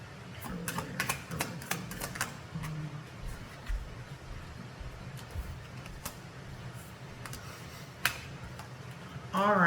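Tarot cards drawn and handled for a reading, with a scatter of crisp close clicks and card snaps over a low background rumble, faint voice and a brief pitched sound at the end.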